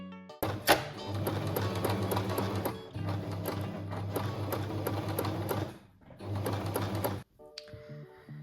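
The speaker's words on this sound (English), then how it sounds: "First of all, I will stitch these little cards to the flags." A sewing machine runs in fast, steady bursts while stitching small cards onto fabric pennant flags, pausing briefly between runs, close and clear.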